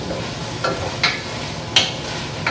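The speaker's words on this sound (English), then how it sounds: "sauteing your carrots and your celery and onions. And this is sauteing really nicely here." Carrots, celery and onions sauté in a pot with a soft, steady sizzle, broken by a few sharp stirring scrapes and clatters, close and fairly quiet.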